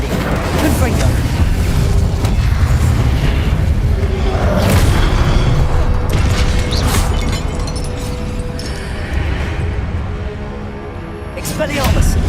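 Confringo explosive spell blasts in Hogwarts Legacy land as loud, booming bursts with crashing, shattering debris, with several heavy impacts spread through a busy stretch of game combat.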